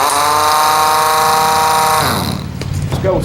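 An Ingersoll Rand 231C pneumatic impact wrench, trigger pressed lightly on lug nuts, whirs with a loud tonal whine that drops in pitch and breaks into a rougher hammering rattle toward the end.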